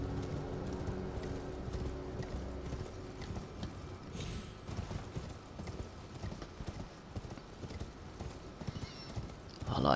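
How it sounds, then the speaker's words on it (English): Steady clip-clop of horse hooves in the Elden Ring video game, a fast rhythmic galloping beat heard close beneath faint ambient game sound, with a brief whinny-like cry near the middle. "I like the fact that there is a horse."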